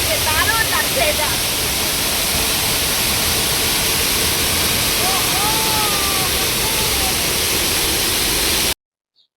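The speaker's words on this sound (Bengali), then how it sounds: "এত স্পিডে ঝর্ণাটা পড়ছে, ঝর্ণার জলটা" A fast waterfall at the Garden of Caves in Meghalaya roars as a loud, dense, continuous hiss. A few faint bird chirps sound over it before it stops abruptly near the end.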